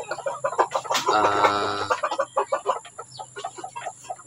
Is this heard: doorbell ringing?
no